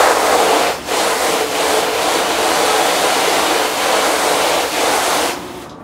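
Running water rinses out a screen printing screen after exposure, a steady broadband spray that stays loud and continuous for several seconds before cutting off near the end, with no talk.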